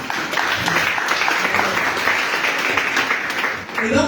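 A church congregation breaks into sustained applause, a dense, even wash of many hands clapping throughout, with voices mingled in the crowd.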